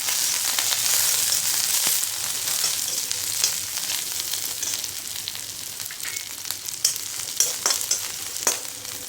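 Coriander sizzles and crackles in hot oil while frying for poha chivda, a steady bright hiss with scattered pops and stirring scrapes, close and continuous.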